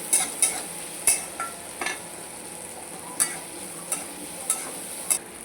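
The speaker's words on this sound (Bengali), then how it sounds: "দিয়ে আমি ভালো করে পেঁয়াজটাকে লাল লাল করে ভেজে নেব।" Onions with salt and green chillies sizzle gently in a pan while a spatula strikes and scrapes it in sharp, irregular clinks every second or so.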